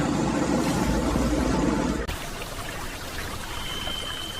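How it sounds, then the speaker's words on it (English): Palm or olive oil pumped from tankers into storage silos at a soap factory: a loud continuous rushing flow of liquid with machinery hum that drops to a quieter, steady stream partway through. "Huge tankers deliver tons of palm or olive oil, which is pumped directly into the factory's storage silos."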